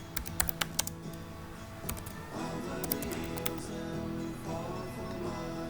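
Fingers tap out a name on a computer keyboard in quick, close clicking bursts with short pauses between them, followed by quieter background sound and no talking.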